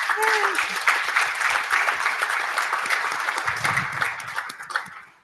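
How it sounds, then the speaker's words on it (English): A rural conference audience claps for a panel, with steady, lively applause throughout. A voice sounds briefly at the start, and the clapping thins and fades near the end. "I hope you all will join me for just a second and clapping for them."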